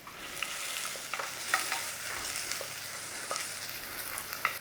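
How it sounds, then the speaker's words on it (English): Onions fry gently in a pan, a steady soft sizzle with faint crackles and occasional stirring scrapes, heard alone without talk. "we're going to fry off our onions"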